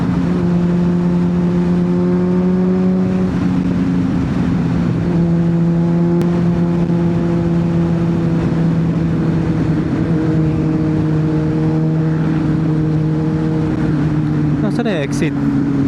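Honda CBR600RR motorcycle engine on a road ride, a steady droning tone with shifting pitch and a gear change around three seconds, loud and close throughout with wind rush, a voice speaking over it.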